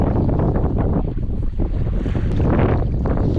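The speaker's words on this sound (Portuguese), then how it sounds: "É, o vento tá mais aqui mesmo." Steady wind buffets the microphone while out on the water in a small paddled boat near the Brazilian shore, with a constant rushing roar and faint lapping water beneath it.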